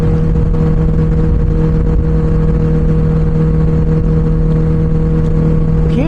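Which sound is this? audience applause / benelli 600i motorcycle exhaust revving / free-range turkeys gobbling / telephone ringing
benelli 600i motorcycle exhaust revving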